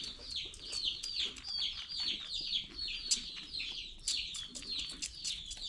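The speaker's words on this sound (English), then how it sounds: "You can hear the chicks in the background." Many small chicks peep and cheep continuously in high, rapid chirps, a busy chorus close by with faint background noise.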